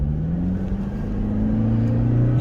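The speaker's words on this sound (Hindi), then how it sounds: "ये डीजल इंजन का फायदा ये है कि ये ना फॉरन पुल अप करता है." A Toyota Fortuner Legender with the 1GD diesel engine accelerates hard in sport mode. Its loud, steady drone rises in pitch as it pulls up, with no talk over it.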